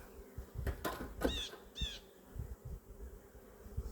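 Honey bees buzzing close by during a spring beehive inspection, a faint steady hum with a few louder passes of individual bees near the listener.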